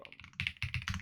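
Typing on a computer keyboard: quick, close clusters of crisp keystroke clicks in several short bursts within about a second, with no talking.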